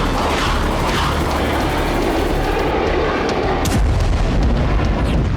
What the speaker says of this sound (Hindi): रूसी सेना ब्लैक सी और आसमान से मिसाइल हमले कर रही है।